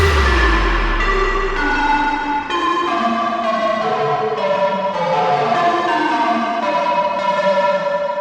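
A future bass synth pluck patch built in Serum plays a bright chord sequence, loud and sustained with gently shifting notes, alone and free of speech.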